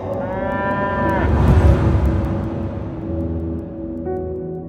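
A carabao water buffalo moos loudly and close by, one long low bellowing call that stretches for several seconds, then a second call starts near the end.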